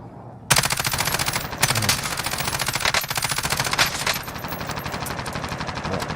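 Sustained rapid automatic gunfire in a video game, loud and close, with dense rattling bursts that run almost continuously after a brief quiet opening and then ease slightly toward the end.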